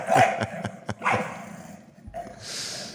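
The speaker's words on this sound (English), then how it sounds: "There's something about bulldogs that's just funny when they're misbehaving like this." A bulldog barks and yips several times in quick bursts, loud and close, followed by a snuffly, breathy noise at the end.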